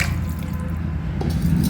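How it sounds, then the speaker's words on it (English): Plenty of water poured over washed rice and fenugreek (methi) seeds so they can soak for dosa batter: a steady, close trickling and dripping that runs unbroken through the whole stretch, with no voices. "Now add plenty of water to the rice as well as to the methi seeds"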